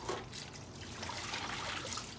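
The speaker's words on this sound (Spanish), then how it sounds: "en este momento lo que hago es ponerles agua fría" Cold water poured from a tap over boiled ancho chiles in a kitchen, a soft steady trickle and splash, faint and brief, with no talking.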